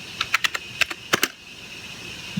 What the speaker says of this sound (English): I'm going to go ahead and just type ATI flash